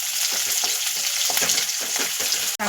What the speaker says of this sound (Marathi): आता आपण जो उभा चिरून कांदा घेतला होता तो ह्यामध्ये परतून घेऊया